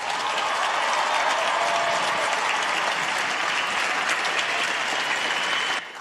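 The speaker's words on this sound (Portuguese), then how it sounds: "Agradezcámosle a Jesús con otro fuerte aplauso." A church congregation claps loudly and steadily in a large hall, a dense continuous wash of applause that holds throughout and then drops off sharply at the very end.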